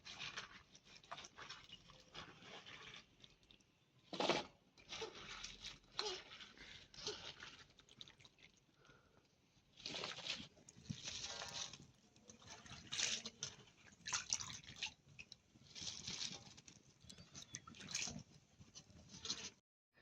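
Water patters and trickles in irregular splashy bursts as washed cauliflower is lifted out of a bowl of water and set on a plate, quiet and close, with short pauses between drips.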